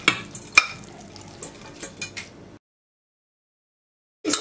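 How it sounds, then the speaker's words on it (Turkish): A metal cooking pot being emptied, with spoon scrapes and clinks against the pot, several sharp knocks and stirring sounds, then a pause of silence before the clatter starts again. "Tencereyi boşaltıyorum."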